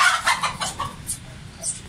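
A Mianwali Aseel rooster clucks and squawks in a quick, agitated burst of calls, fairly close, with a faint rustle behind.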